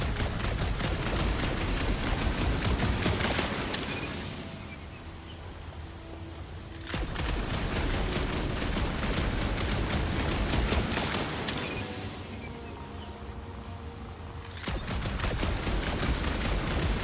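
Sustained rapid gunfire in the Guardians of the Galaxy video game, loud close bursts of fast repeated shots that stop briefly twice before starting up again.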